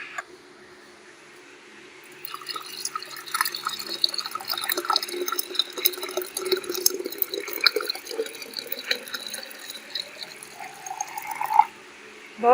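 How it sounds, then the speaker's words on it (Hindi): Mint lemon sharbat made with cold water pours into a jug as a continuous trickling, splashing stream for several seconds, moderately close, ending in a brief clink. "अब हम इसको जग में ट्रांसफ़र करेंगे।"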